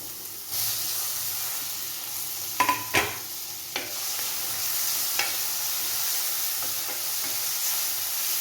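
Onions and tomato sauté in a pan for an egg and vegetable stew, a steady soft sizzle with a few sharp stirring scrapes and clinks, heard close with no talk.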